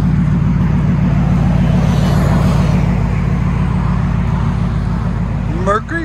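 A 2000 Mercury Grand Marquis GS with a 4.6L V8 and true dual exhaust with Vibrant resonators idles steadily and close by, a deep even rumble. A brief voice cuts in near the end.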